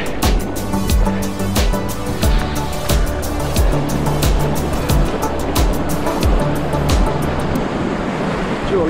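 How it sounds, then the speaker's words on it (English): Surf rushes and churns at a boat launch, a loud continuous wash of water with rhythmic surges and clicking wind buffeting against the microphone. "Here comes a nice rush of water"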